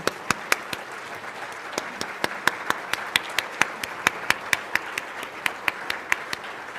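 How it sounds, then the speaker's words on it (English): Audience applause at a meeting, a steady patter of many hands clapping at moderate distance, with a few louder nearby claps punctuating it throughout and no talking. "one big round of applause for our Leslie, too"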